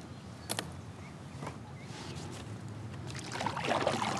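Paddle strokes pull a small fishing boat through shallow, weedy water, with soft splashes and dribbles near and fairly faint, and a louder burst of sloshing toward the end.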